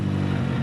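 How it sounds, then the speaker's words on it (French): Racing car engines revving on a race circuit, a brief loud steady low rumble with dense engine harmonics throughout. "Faites-moi chauffer les moteurs."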